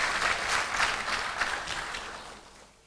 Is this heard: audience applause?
yes